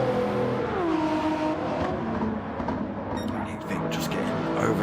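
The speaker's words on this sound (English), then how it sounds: "GR1s then coming past, making short work of the GR3s" GR1 race cars sweeping past slower GR3 cars in a Toyota multiclass racing game at the Red Bull Ring, engines whining and rising in pitch as they overtake, a steady drone of motors heard under commentary.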